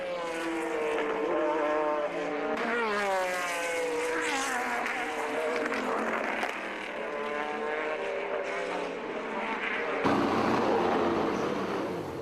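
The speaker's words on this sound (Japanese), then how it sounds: "2回目の走行を終え、山岸がピットへと戻る" Race cars at the 2005 Le Mans 24 Hours endurance race pass with rising and falling engine whines, loud and sustained, several overlapping passes swelling and fading.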